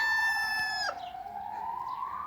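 A rooster lets out a long, loud crow that holds a steady pitch before trailing off, with faint clucking hens in the background.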